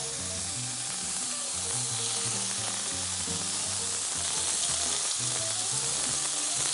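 Slices of foal steak sear in a hot pan, giving a continuous loud sizzle and crackle that stays steady with no voices.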